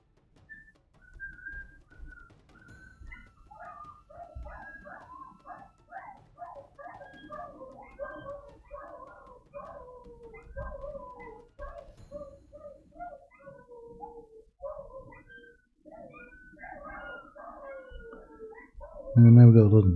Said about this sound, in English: And now we've got a lot of neighbours blasted dogs barking.